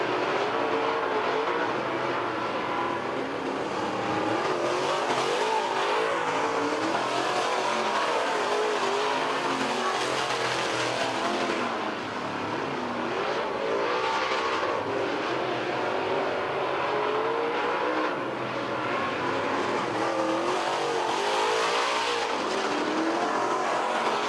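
Late model stock cars roar around a dirt oval at Lebanon Midway Speedway during a heat race, engines droning loud and steady for the whole stretch with no talk over them.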